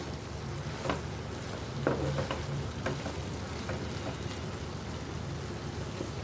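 Boiled flat beans and potatoes are stirred in a pan, giving a quiet, soft frying sizzle with faint scrapes and occasional clinks and no voices.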